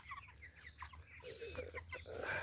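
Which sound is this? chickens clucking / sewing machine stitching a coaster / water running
chickens clucking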